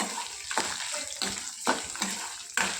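Dried red chillies frying in a pan over a low flame, a soft sizzle broken by several rhythmic scraping strokes of stirring, fairly faint and close.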